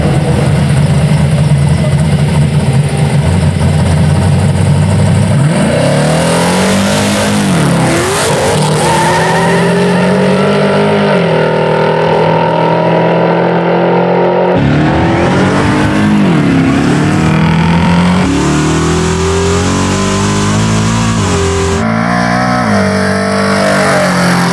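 Drag racing cars at a no-prep drag race, a Cadillac wagon and a Fox Body Mustang, roar loud and close for a sustained stretch. Engines rise in pitch as they accelerate, with swelling and falling revs and passing surges.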